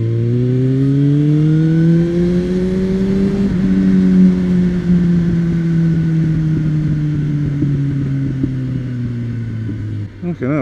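A car engine revs under load, its strong harmonic drone rising and falling steadily for about ten seconds, close and loud, with a faint crackle of exhaust pops toward the end.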